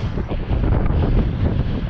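A strong headwind buffets the microphone while travelling down a long straight road, a loud, continuous low rumble with irregular gusty surges and no other sounds standing out.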